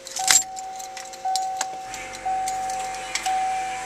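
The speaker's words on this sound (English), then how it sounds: "You're going to hear a motor kick in." An air suspension motor on a 1986 car whirs on as the key is turned, a steady mechanical hum with a few short clicks and jingling key sounds over it, close and moderately loud.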